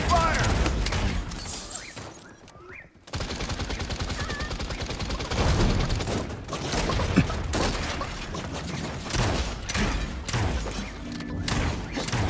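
Sustained automatic weapon fire in the Realm Royale battle royale game, dense and continuous with a short gap, while a player talks over it.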